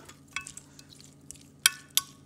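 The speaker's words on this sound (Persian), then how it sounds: "وقتی میگوها رو اضافه کردم خوب اونها رو زیر و رو میکنم" Cleaned shrimp are stirred into a batter mixed with garlic powder in a bowl, making soft wet scraping and a few sharp clinks of a utensil against the bowl. The sounds are quiet and close, with no talking.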